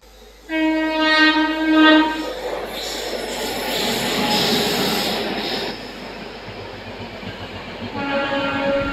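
Secunderabad–Bhubaneswar Visakha Express, an LHB-coach train hauled by a Royapuram-based locomotive, sounds a loud multi-tone horn blast, then roars past close by with rushing wheel noise before a second horn blast near the end.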